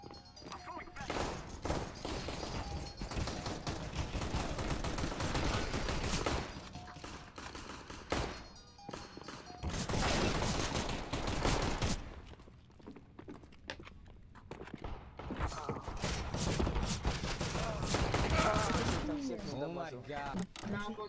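Rapid bursts of gunfire from Counter-Strike play in long, dense volleys with short pauses between them, loud and constant, while voices shout over the shooting.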